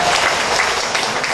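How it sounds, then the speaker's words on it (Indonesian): Congregation at a Catholic thanksgiving mass for World Food Day breaks into steady, close applause, a dense continuous wash of clapping throughout. "Tepuk tangan."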